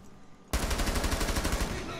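Sustained automatic gunfire in Rainbow Six Siege bursts in suddenly after a quiet moment and continues loud and rapid, close up.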